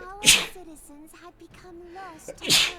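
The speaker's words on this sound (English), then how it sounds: "Bless you, if that was a sneeze." A sudden loud sneeze bursts out near the start, and another sharp one follows at the end, with someone speaking in between.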